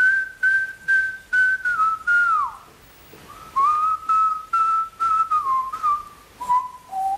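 A man whistles the Jerry Cotton theme tune up close, in clear phrases of short notes with a brief pause midway and sliding pitches at phrase ends.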